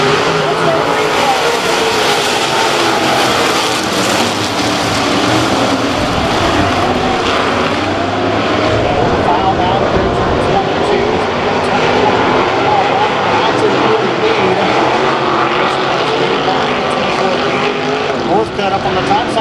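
Super Stock race cars starting a heat race at 81 Speedway, a loud, dense roar of many engines that holds steady and fills the air, with a commentator's voice mixed in.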